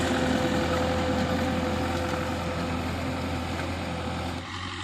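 Big Belarus tractor working a field with a FARMKING disc harrow, its diesel engine running steadily at a low rumbling idle-like drone close by, fairly loud and constant, easing slightly near the end.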